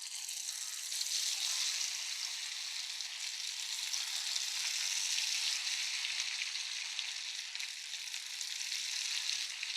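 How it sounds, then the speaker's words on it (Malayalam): Beef pieces frying in hot oil over a medium flame, giving a steady, close, bright sizzle that holds level for the whole stretch with no talking. "നമ്മൾ ബീഫ് എണ്ണയിൽ ഇട്ട് കഴിഞ്ഞാൽ ഒരു മിനിറ്റ് നമ്മൾ ഇളക്കി കൊടുക്കരുത് കേട്ടോ"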